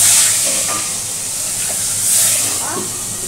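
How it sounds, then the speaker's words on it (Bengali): A batch of fish, pabda and bata, fries in hot oil with a loud, continuous hissing sizzle that swells and eases. Faint voices are heard in the background. "আমি মাছগুলো ভাজতে থাকি"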